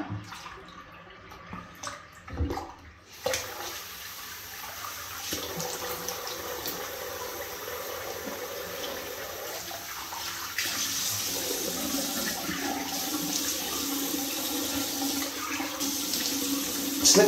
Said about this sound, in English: Going for the cold rinse.